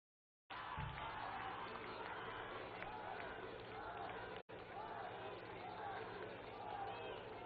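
Sustained applause from a large crowd of women welcoming the Prime Minister at a hall event, a dense continuous clapping that starts abruptly and holds loud throughout.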